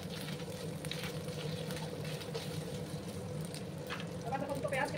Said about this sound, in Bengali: আমি আদা রসুনের পেস্টটাকে একটু ভালো করে ভেজে দিচ্ছি।